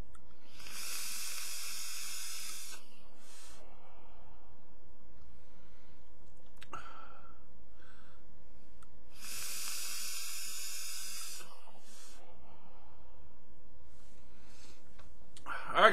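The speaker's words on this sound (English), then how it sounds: "I'm getting a little sizzle afterwards" Two bursts of bright hissing sizzle from a vape atomizer coil in a UD Bellus RTA, each lasting a couple of seconds, separated by quiet stretches with faint background noise.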